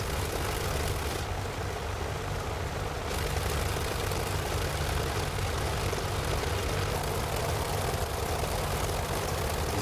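Droning piston engine of an old biplane in Microsoft Flight Simulator 2024, a steady dense propeller roar holding level for the whole stretch with no pause, heard alone.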